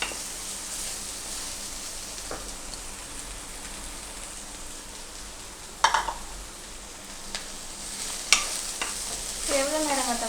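Okra and onion sautéing in a pan, a steady close sizzle with stirring scrapes, a few sharper clinks of the spatula near the middle and end, no voices.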